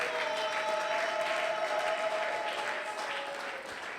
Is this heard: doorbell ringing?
no